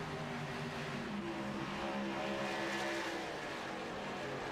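Several K&N race cars circle Atlanta in a sim racing video game, their engines droning in steady overlapping harmonics at a sustained, even level with no talk.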